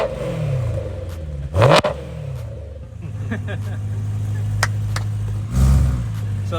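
A BMW E90 M3 with a full titanium quad-resonated valved exhaust, valves open, warm engine idling with a deep burble and two sharp throttle blips, close and loud, with a voice briefly over it.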